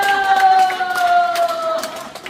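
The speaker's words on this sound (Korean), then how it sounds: "박수 한번 주시죠. 박수!" Guests at an elderly person's birthday party clap together, a dense burst of applause with crowd noise, while a sustained musical tone carries on beneath it.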